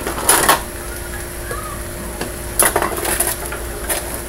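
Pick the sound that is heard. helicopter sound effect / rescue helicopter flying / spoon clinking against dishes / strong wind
spoon clinking against dishes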